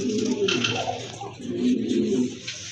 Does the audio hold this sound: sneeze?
no